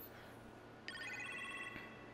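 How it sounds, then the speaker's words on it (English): A telephone rings inside the Iron Man VR video game, a bright trilling ring beginning partway through and continuing steadily to the end over a low ambient hum, with no talking. "We'll answer the phone in the next episode."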